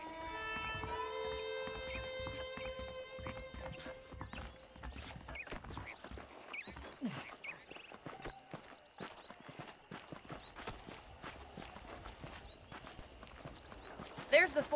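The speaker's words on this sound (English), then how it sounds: "The horses are saddled up over here." Horse hooves clip-clop in the video game Red Dead Redemption, a run of close, crisp, rhythmic hoofbeats with a brief musical tone at the start, while someone talks over them throughout.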